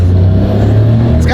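Small 64-horsepower car engine pulling steadily under acceleration, a continuous close, loud low drone from inside the cabin, with voices present.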